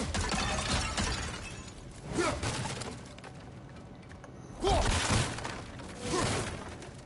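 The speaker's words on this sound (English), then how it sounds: "back to smashing through things for fun and profit" Objects smashed apart in God of War Ragnarok, heard as three loud crashing, shattering bursts spaced a couple of seconds apart over a steady game ambience, with no talking.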